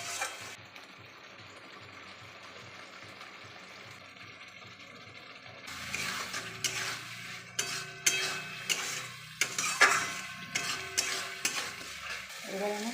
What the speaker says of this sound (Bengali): এবার আমি এই মশলাটা দিয়ে দেবো। ভেজে দিব